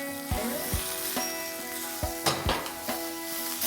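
Chilies and sliced onions stir-fry in a pan, a constant sizzle broken by several sharp scraping knocks of a spatula against the pan, close and clear with no speech.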